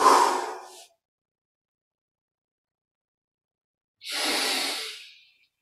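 Slow, audible breaths during a guided meditation breathing exercise, one breath trailing off, a long silence, then a long, airy exhale close to the microphone.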